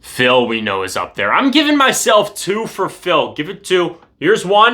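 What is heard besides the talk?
None of the usual background noises is heard.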